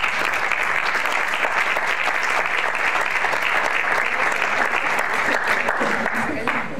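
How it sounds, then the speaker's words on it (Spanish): Audience at a democracy and human rights forum applauding loudly and steadily for several seconds, a dense wash of clapping that fades slightly at the end. "Démosle un fuerte aplauso."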